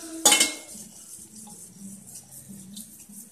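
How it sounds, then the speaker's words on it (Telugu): Garlic milk seasoned with turmeric and pepper being stirred in a pot: a sharp metal clink from the spoon at the start, then a soft, steady swirling scrape close by, with no talking. "ఇప్పుడు బాగా కలపాలి"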